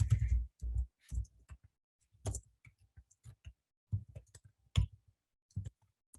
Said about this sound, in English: Apparently it doesn't let me copy and paste, so I'll just type it out